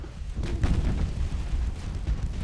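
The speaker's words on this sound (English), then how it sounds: "Torpedo hit." A torpedo striking a warship in Ultimate Admiral: Dreadnoughts, a deep, rumbling explosion with a heavy low boom that rolls on through the whole moment.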